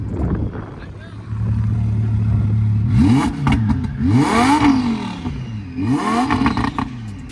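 A wide-body car's engine is blipped with a few throttle taps at a Chicago car meet, each rev swelling loud and close in quick succession over a steady idle, with people talking nearby.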